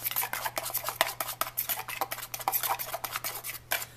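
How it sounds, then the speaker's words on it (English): A utensil scrapes and clinks against a pot while melting chocolate is stirred, a close run of irregular scraping and tapping strokes with no talk. "stir one more time, get that melted in there, let it loosen up that chocolate a little bit"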